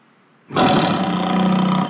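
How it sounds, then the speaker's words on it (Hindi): After a brief quiet moment, a loud, sustained lion roar, an animated car horn on a 500-horsepower V8, bursts in abruptly and holds, rough and powerful, close by. "तुमने भी शेर की आवाज सुनी?"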